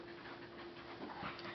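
A cocker spaniel pants softly and steadily close by, a quiet continuous breathy rhythm with no talk.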